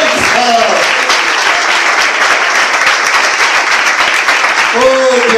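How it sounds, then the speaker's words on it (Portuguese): Congregation clapping loudly in a church service, a dense and continuous roar of hands with a voice talking over it at the start and end. "E as palmas para Deus. Bem forte para Jesus."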